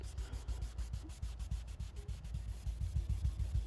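Hand sanding on a small block over car paintwork being repaired from bird-dropping etching, a quick steady back-and-forth rubbing rhythm, soft and close with no talk.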